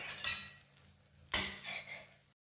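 A pan being tossed and stirred with a utensil after ground pepper and chilli flakes go in: two sharp scraping clatters of metal with soft sizzling between them, close and alone.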